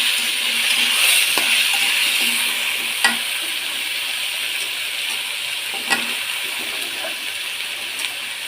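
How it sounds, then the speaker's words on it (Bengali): Sweet pumpkin pieces go into a hot pan and fry with a continuous bright sizzle and hiss, while a few soft utensil clinks sound close by and no one speaks. "এখন আমি মিষ্টি কুমড়াটা দিয়ে দিচ্ছি।"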